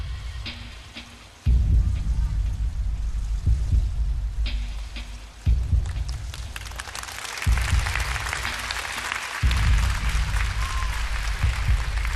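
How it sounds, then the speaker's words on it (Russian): Applause breaks out in a crowd at a televised diving show, a dense wash of clapping that starts abruptly and swells in a few bursts, fairly loud and steady, over a low booming background. "Аплодисменты для Санты Димополос"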